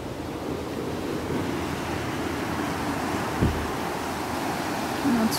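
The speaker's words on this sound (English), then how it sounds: "That's releasing the water." Water released through a lock gate at Neptune's Staircase canal locks in Scotland, a continuous broad rushing roar with outdoor wind, steady and alone, with a faint brief thump midway.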